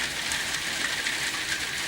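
Heavy autumn rain pours steadily outside, a dense, even hiss of drops on surfaces that never lets up, with no voices.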